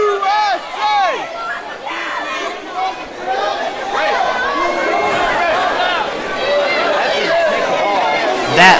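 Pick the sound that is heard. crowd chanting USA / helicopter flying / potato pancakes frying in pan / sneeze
crowd chanting USA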